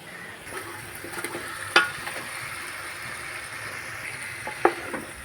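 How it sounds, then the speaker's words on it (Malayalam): Chicken coated in masala is stirred in a pan for Arabic chicken madhooth, giving an even, moderate sizzle with occasional scraping and two sharp utensil knocks against the pan. "എന്നിട്ട് നന്നായി ഇങ്ങനെ ഇളക്കി കൊടുക്കാം കേട്ടോ നമ്മുടെ ചിക്കനിലേക്ക് ഈ മസാല ഒക്കെ ഒന്ന് നന്നായിട്ട് പിടിക്കുന്ന രൂപത്തിൽ നന്നായി ഒന്ന് ഇളക്കി കൊടുക്കാം"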